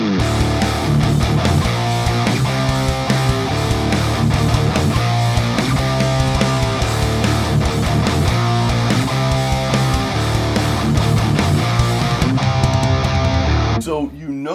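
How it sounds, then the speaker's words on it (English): Heavy metal guitar riff of distorted power chords in drop D tuning, chugging dense and loud throughout before stopping abruptly near the end, with no talking over it. "So here's what the riff sounds like in drop D."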